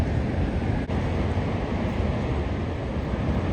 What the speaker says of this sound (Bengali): এই যে সাউন্ডটা শুনতে পাচ্ছেন, এটা হচ্ছে পানির শব্দ।